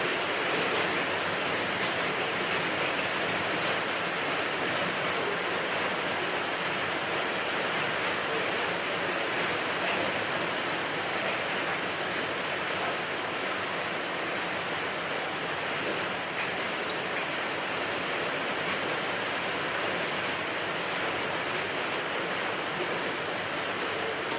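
A pot of bamboo shoot curry boils steadily, giving a continuous dense bubbling hiss that stays even and fairly loud throughout, with no voices.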